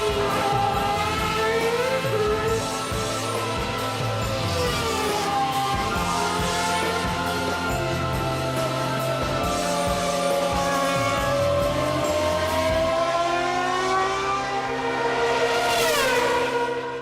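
A Formula 1 race car at a demonstration run during a World Series by Renault meeting, its high-pitched engine wailing continuously with shifting revs, swelling and fading as it passes, loud and sustained throughout.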